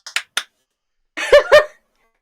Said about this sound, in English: Freaking clapping sound like rubber bands for a second.